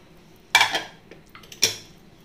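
A pressure cooker lid is opened after cooking squid, giving two sharp metallic clanks about a second apart with lighter rattles between them, close and otherwise quiet.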